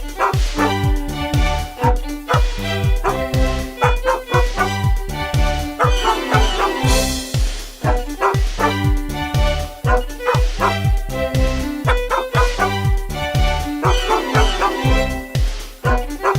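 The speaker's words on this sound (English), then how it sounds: "this week's theme song is the dog chorus Jingle Bells." A dog chorus barks out the Jingle Bells theme tune, with rhythmic, pitched yips and woofs set to a loud, steady musical backing that repeats through the whole song.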